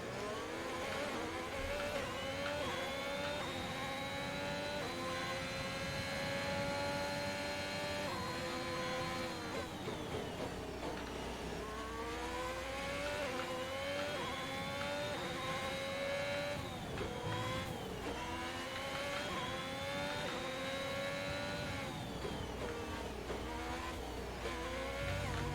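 Formula 1 race car engines from the F1 2021 game at the Bahrain Grand Prix, with Ferrari, Red Bull and Mercedes cars nearby, wail loudly and continuously, climbing in pitch through upshifts in repeated surges with no talking.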